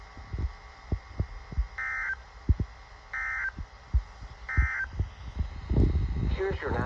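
NOAA weather radio's required weekly Emergency Alert System test from a Florida station sounds three short, evenly spaced beeps over soft rhythmic low thumps and a steady hum, with some voice at the end.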